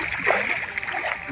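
Brief splashing of water from a swimmer's fast kicks and arm pulls during a backstroke and freestyle demonstration, a short churning burst close by.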